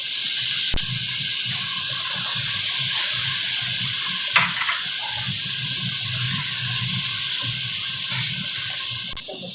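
Macaroni pasta sizzles and fries steadily in a hot pan as vinegar is added, a continuous broadband hiss with faint stirring clinks, loud and close, with no talking.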